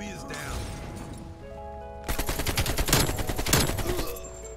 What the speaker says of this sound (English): we're gonna be using this AK-47